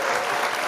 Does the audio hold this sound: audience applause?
yes